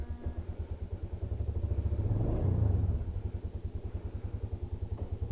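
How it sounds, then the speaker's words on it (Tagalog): A Yamaha Vega Force Fi motorcycle, not yet tuned up, idles with a steady rapid low thumping, briefly revving up midway before settling back to an even idle, close and alone. "So testing natin ulit yung motor ko."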